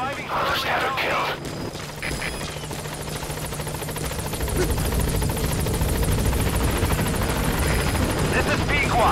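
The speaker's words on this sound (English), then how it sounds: "I'll send the extraction chopper." In the Metal Gear Solid V video game, an extraction helicopter arrives with a steady rotor thrum that grows louder and closer. Radio-style voices speak over it at the start.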